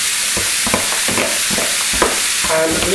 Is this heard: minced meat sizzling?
yes